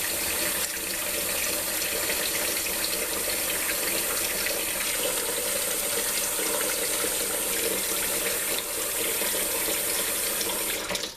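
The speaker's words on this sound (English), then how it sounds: "just run some cold water on these and rinse these off." Cold water runs steadily from a tap, splashing continuously onto salmon fillets in a sink, loud and close, with no voices.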